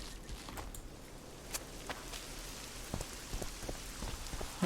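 Steady rain falls in The Witcher 2 video game, a dense hiss of drops on surfaces with scattered louder patters throughout and no talking.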